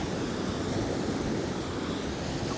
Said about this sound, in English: the wind is keeping it somewhat cool